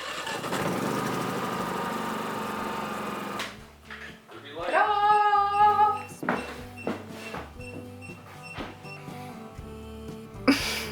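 A generator engine runs at a cabin with a rough, steady mechanical drone for the first few seconds, then cuts out, leaving clanks, knocks and people talking.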